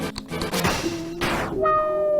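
A brief electronic enemy sound from Undertale, likely a Vulcan: a crashing burst followed by a falling sweep and a sustained synthetic tone.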